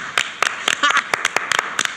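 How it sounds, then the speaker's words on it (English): A studio audience applauds for Joey, a short burst of sparse, distinct claps at close range, loosely rhythmic and fairly sharp. "stand by for applause over here at Joey"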